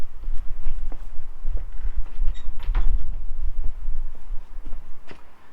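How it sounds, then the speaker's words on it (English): A shed door swings shut with a solid thud amid shuffling footsteps and scuffing movement nearby, followed by a few lighter knocks. "Let me go shut the shed door."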